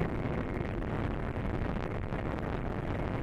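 A ship's engine in the submarine game Wolfpack runs as a steady, dense low rumble and wash, constant and unbroken throughout, with no voices.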